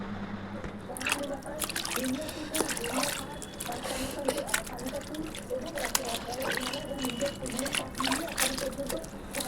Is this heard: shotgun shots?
no